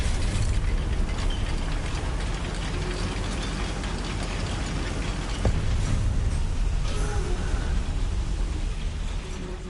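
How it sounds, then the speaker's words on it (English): A lift mechanism in Hogwarts Legacy on PS5, a continuous grinding mechanical rumble with ratcheting and gear clatter, loud and steady throughout with no speech. "Look at this lift. Impressive workmanship for so simple a device."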